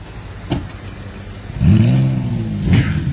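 A Chevrolet Corvette C8 Z06 with a flat-plane-crank V8 and center-exit exhaust revs up nearby, a rising throaty roar that swells loudly after a quieter moment and holds, with no talk over it.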